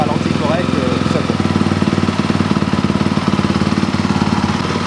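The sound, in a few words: motorcycle engine idling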